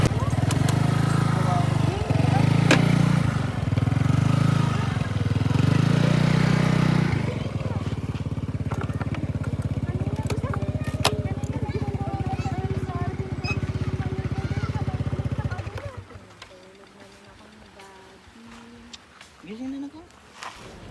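Honda Click 125i V3 scooters riding along a road, a steady close engine drone with rumbling wind for most of the stretch, then dropping away to quieter idling and faint background sounds near the end, with voices talking over it.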